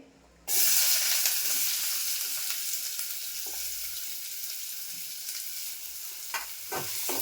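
Onion drops into a hot oiled pan for a Malvani-style yardlong bean dish, setting off a sudden loud sizzle that holds steady and close, with a few spoon scrapes toward the end.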